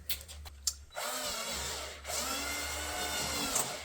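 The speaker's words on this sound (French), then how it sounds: "C'est déjà l'heure de tarauder à la perceuse." A few sharp clicks, then an electric drill tapping a thread whines steadily, briefly pausing before spinning up again, close and fairly loud.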